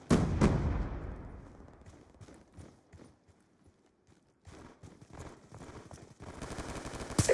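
Video game gunfire from Call of Duty: Black Ops 2, a loud burst at the start followed by scattered shots and impacts, rising again into dense firing at the end, with game sounds and combat noise throughout.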